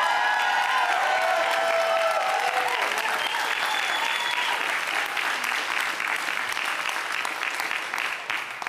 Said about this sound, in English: he deserves our thunderous applause.